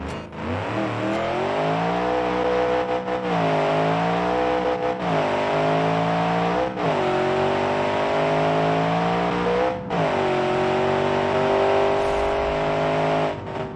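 Drag-racing truck in BeamNG, engine revving hard and loud through repeated upshifts with brief dips between gears, a sustained full-throttle run with wheelspin.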